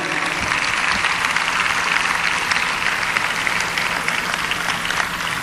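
Dense, sustained audience applause at a celebration, a steady loud wash of many hands clapping at once that fills the whole stretch without pause.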